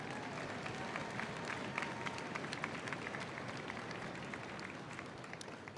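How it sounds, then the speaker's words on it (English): Crowd applause for exhibitors at the Houston Livestock Show and Rodeo junior market steer auction, a steady dense clapping wash heard at moderate distance, faint and even throughout. "big round of applause. Let's make some noise for the exhibitors"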